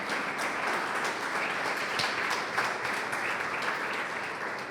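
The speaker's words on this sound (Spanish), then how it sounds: "Dale un fuerte aplauso al Espíritu de Dios en esta mañana" A church congregation applauding during a Spanish-language morning service, a full, even roar of clapping that holds steady for several seconds with no voices rising above it.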